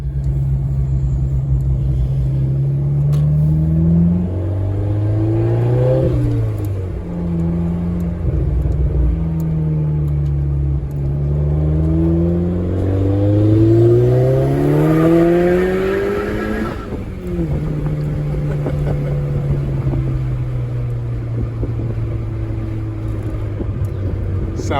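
A big-turbo VW GTI Mark IV accelerates hard from inside the cabin, its loud, close engine drone rising in pitch through several gear changes, dipping briefly between shifts.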